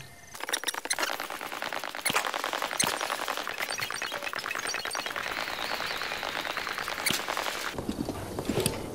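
Horse hooves gallop across the ground in Breath of the Wild, a fast, even clip-clop rhythm running near and steady throughout, with occasional clinks and squeaks.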